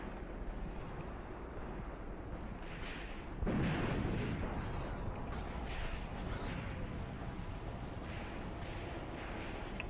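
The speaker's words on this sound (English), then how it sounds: "we're taking heavy machine gun fire now" Tripod-mounted heavy machine gun firing from a distance in a WWII battle near Kharkov in 1942, heard as a loud low rumble of bursts under a steady battle din with scattered higher crackles and no talk.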